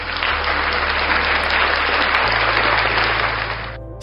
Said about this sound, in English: round of applause for single women